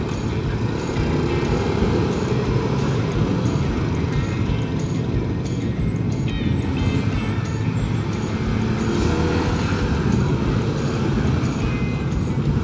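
A car climbs a narrow mountain road on the Puncak route, its engine and road noise a steady, loud drone from inside the cabin with faint passing traffic, no voices.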